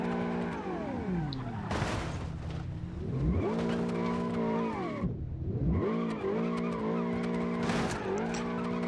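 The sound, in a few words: car spinning out, tires skidding, in a racing video game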